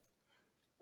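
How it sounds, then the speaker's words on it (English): A dog gives a single short, loud bark right at the end, after near-silence indoors. "I'm sorry about my dog."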